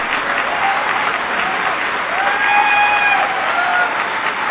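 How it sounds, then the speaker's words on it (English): Loud, sustained applause from a crowd welcoming George W. Bush as he takes the stage, with faint cheers rising over the dense clapping. "I needed that uplifting applause"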